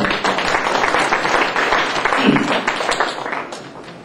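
Applause of encouragement from a church gathering of student ministry teachers, a full, close crowd clapping loudly and continuously, thinning slightly toward the end.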